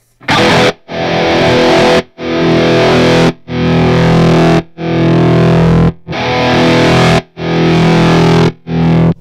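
A guitar runs through a Sentimental Bob Electronics Tacana tremolo pedal in its second mode. Loud distorted chords swell in repeated pulses, each chopped off sharply into near silence, about seven times in a steady rhythm with no voice.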